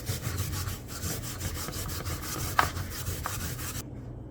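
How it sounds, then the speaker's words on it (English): Yellow yam is grated by hand, making close, rhythmic rasping strokes in quick repeated pulses, steady and gritty, with one sharper knock partway through before the scraping stops. "You're gonna grate the yellow yam."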